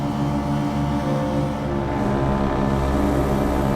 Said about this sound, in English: The sound, the vibration, the rumble of these three massive rotary engines